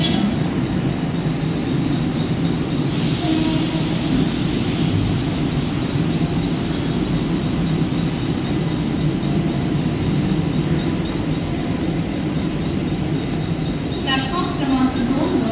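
A Mumbai local train pulling into a station platform, its loud, continuous rumble and rattle filling the whole stretch, with faint voices mixed into the background.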